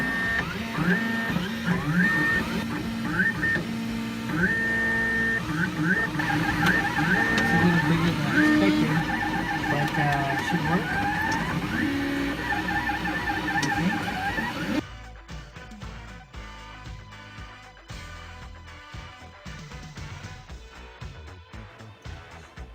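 A 3D printer's stepper motors whir and buzz in shifting tones, with a person speaking briefly over the mechanical hum.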